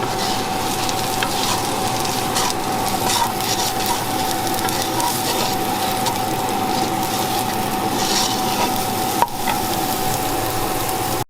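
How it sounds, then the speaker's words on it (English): Onions frying and being stirred in a pan for paella give a steady, close sizzle with soft scraping, continuous and alone with no voices. "Okay, and stir them in and soften them up."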